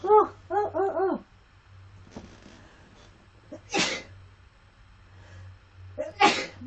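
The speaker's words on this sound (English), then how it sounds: "I feel a sneeze coming on." Two sharp, loud sneezes ring out close by indoors, each a sudden noisy burst, following a few brief voiced sounds at the start.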